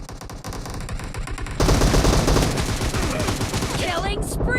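Rapid bursts of video-game gunfire in a team shooter match, a dense automatic volley that jumps louder partway through and keeps rattling under busy game effects.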